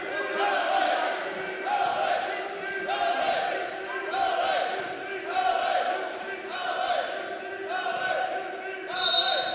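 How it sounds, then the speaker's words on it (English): A loud crowd at a men's volleyball match between Mohawk and Conestoga chants and cheers in rhythmic, repeating bursts, with a sharper shout near the end, echoing through a gym. "Loud crowd here tonight"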